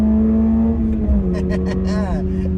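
Engine of a 2022 Toyota GR86 with manual transmission revving steadily while driving, a continuous loud drone that shifts pitch partway through, with a person talking over it.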